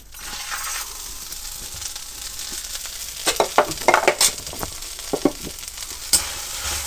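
Red chillies and salt dry-roast in a pan for idli podi, a steady scraping stir broken by sharp clustered rattles and crackles as the chillies are tossed, close and fairly loud with no talking.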